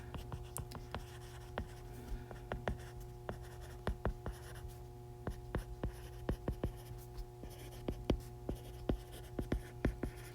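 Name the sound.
writing notes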